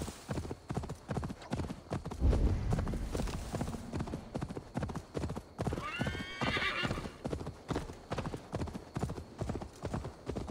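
Horse hooves clip-clop in a steady, fast rhythm while riding in Assassin's Creed Valhalla, with a horse whinny partway through; the hoofbeats sound close and continuous.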